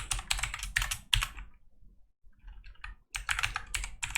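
Rapid typing on a computer keyboard while writing a beginner Python program, with close, crisp clusters of keystrokes, a pause of near silence in the middle, then another quick flurry of keys.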